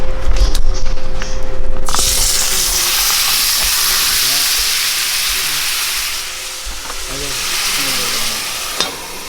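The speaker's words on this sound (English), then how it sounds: "Now I am going to put it on the cast iron skillet." A thawed, marinated steak sears in Kerrygold butter in a cast iron skillet, a loud, steady sizzle and spatter that erupts suddenly after a brief quieter moment and keeps crackling close up.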